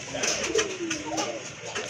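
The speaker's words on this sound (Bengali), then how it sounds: "অনেক বড় সাইজের একটা রেসার কবুতর" A large male racer pigeon coos close by, a low rolling warble that rises and falls over a couple of seconds, with faint background voice.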